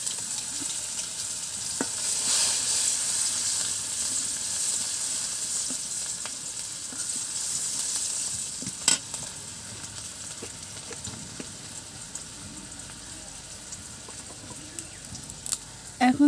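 Whole cumin seeds and chopped onion hit very hot oil, giving a steady, broad sizzle and crackle that runs throughout, with occasional sharp pops and light utensil clinks.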